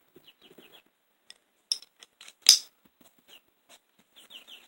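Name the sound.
chicks clucking noisily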